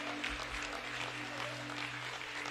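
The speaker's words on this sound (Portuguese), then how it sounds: "Uma salva de palmas, uma salva de palmas." Steady applause from an audience gathered at a church ministry's 42nd-anniversary celebration, a dense wash of clapping that holds at an even level throughout, with a low hum running underneath.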